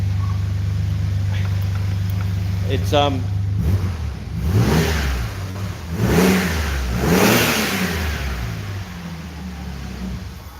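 A Chrysler VH Valiant with a 245 Hemi engine cranks, then fires up close by and revs in several rising and falling surges, with a brief voice at the start.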